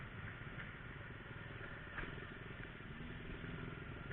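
A motorcycle pushes through flood water in a residential area of Bandung. Its engine drones loud and steady alongside a continuous splashing, churning wash, close to the rider, with no speech.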